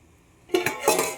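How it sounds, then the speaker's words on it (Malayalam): After a quiet moment, a metal lid is set onto a cooking pot of prawn biryani with a few short, bright clanks and clinks. "നമുക്കിത് അടച്ച് വെക്കാം."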